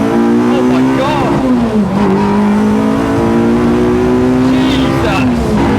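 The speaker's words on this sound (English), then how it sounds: "So we'll do a second gear pull." A Honda Integra DC5 fitted with a K24 engine pulls hard through second gear on a straight road, its loud, sustained engine note climbing steadily in pitch from inside the cabin, with excited voices partly over it.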